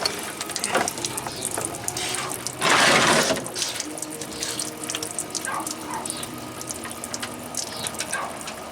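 Fluid draining from a Kenworth T800 truck into a tank, a steady trickling and splashing with a brief louder gush, plus faint mechanical clicks in the background.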